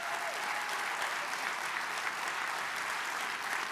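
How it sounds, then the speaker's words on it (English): Audience applause at a gathering, a dense, steady wash of clapping from a sizable crowd that holds even and fairly loud for the whole stretch, with no voices standing out. "deserves a round of applause"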